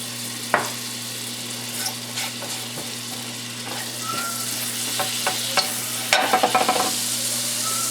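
General Chow's sauce sizzles steadily in an oiled pan with a constant close hiss, broken by scattered spatters and, near the end, a quick burst of stirring clatter, with no talk.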